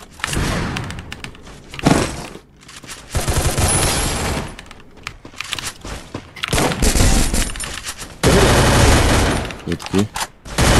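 Rapid bursts of automatic gunfire in the video game Free Fire crackle in loud, dense volleys separated by short pauses, with thuds and clatter mixed in.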